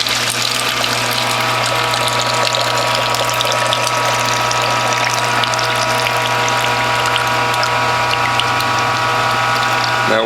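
A manual juice press presses pomegranate seeds with a steady mechanical grinding and ratcheting over a constant low hum, loud and close throughout, with juice trickling beneath.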